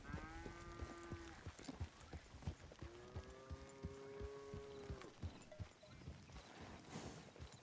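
Cattle in the Red Dead Redemption 2 video game give two long, drawn-out moos in a row over steady hoof clip-clop, fairly close in a rural game scene.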